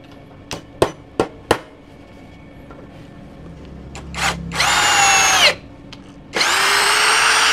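A Makita LXT cordless drill in hammer mode, powered by a Ronic battery, gives a few sharp clicks before whirring up in two loud, steady runs of several seconds each, close by with a brief pause between them.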